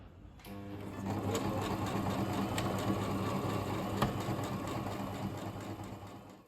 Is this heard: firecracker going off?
no